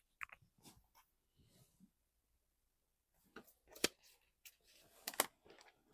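Scissors point poking through fabric on a sewing table, giving a few sharp close clicks and snips with quiet gaps between them.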